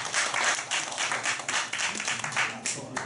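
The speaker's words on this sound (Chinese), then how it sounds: "好，来，掌声欢迎。" An audience claps and applauds at a two-minute self-introduction meetup in Taichung, a dense, steady patter of many hands held at an even level for about three seconds.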